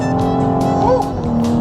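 Engine of a 2020 Cadillac CT5-V sedan pulling hard under acceleration, a loud, steady drone with a rising tone partway through and no talk over it.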